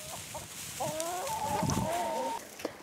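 Chickens clucking in a leaf-mulched garden, a few short calls followed by a drawn-out, wavering cluck, fairly close and standing alone against quiet outdoor background.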